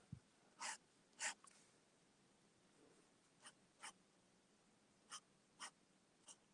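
A drawing pen with a conical nib scratches on paper in short, separate strokes: two quick marks, then several more spaced out, quiet and close in a hushed room.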